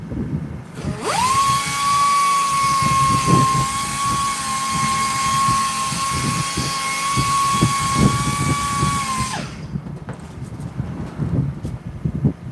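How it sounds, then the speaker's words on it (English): A power sander whines at a steady high pitch for several seconds against stainless steel, then cuts out, leaving scattered knocks and rattles. "Just sanding it first, one final stage."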